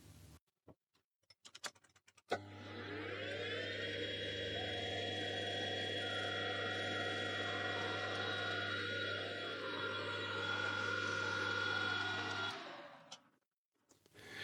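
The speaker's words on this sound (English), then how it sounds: "we are just going to chamfer the end of the threads" A lathe chamfers the thread ends of a BSA R12 rifle barrel, starting with a few clicks, then a steady loud motor hum with a cutting whine that holds for about ten seconds before spinning down.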